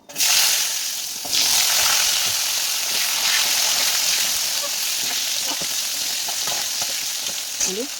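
Potatoes fry in hot oil with cumin seeds and dried chilli, a loud, continuous close sizzle that flares up as the pieces go in and keeps hissing steadily, with occasional stirring scrapes.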